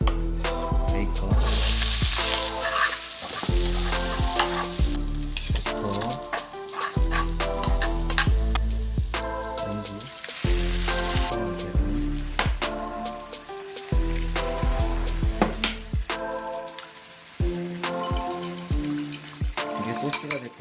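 Bacon for carbonara fries loudly in a pan, giving a continuous close crackling sizzle with many sharp pops and spatters, broken by clanging stirs across about twenty seconds.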